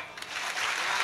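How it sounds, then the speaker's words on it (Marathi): Listeners at a Marathi kirtan break into clapping, a short, dense burst of hands that builds and holds steady for about a second. "एकदा मोकळ्या टाळ्या वाजवा"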